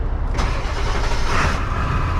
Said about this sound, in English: The good thing is I know this truck will start.